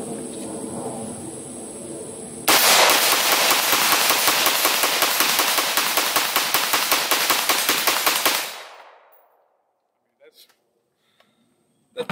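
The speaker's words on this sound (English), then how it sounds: "I'm going to keep on shooting because I'm enjoying it." A PSA 5.56 rifle with a drop-in trigger fires a long run of rapid, evenly spaced shots outdoors, loud and close, then stops and the sound dies away into near silence.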